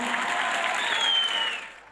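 Steady, dense applause from an audience at a school folk song (türkü) competition in Artvin, sustained for about two seconds before tapering off.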